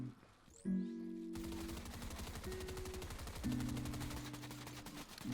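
Rapid bursts of automatic gunfire in an online shooter game, played with a keyboard joystick, rattle in quick succession over about five seconds, fairly quiet with steady tones from the game underneath.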